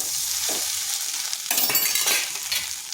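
Boiled potatoes being mixed with spices in a pan, a short burst of frying sizzle with scraping stir strokes that grow louder and busier halfway through, close and without voices.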